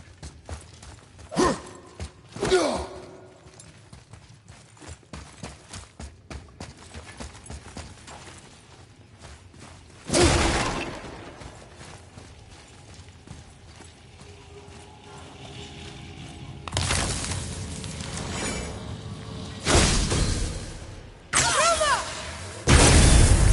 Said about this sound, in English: never get tired of shattering things with this